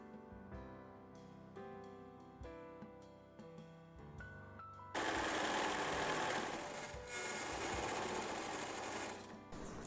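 A sewing machine stitches a double-sided fabric placemat. Faint tonal sounds come first, then the loud, continuous, even whir of the machine running near and alone for the second half.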